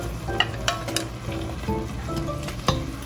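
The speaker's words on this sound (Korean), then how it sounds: "기름을 적당량 두르고 김치를 종이컵으로 3, 4컵 정도 넣어서 볶아줍니다" Kimchi stir-frying in oil in a pan, a steady close sizzle and crackle with a few sharp spatter pops and light stirring scrapes, no voices.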